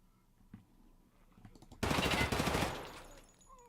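A loud, dense burst of automatic gunfire from a video game gun erupts after a few quiet clicks and thuds, then fades into a short reverberant tail.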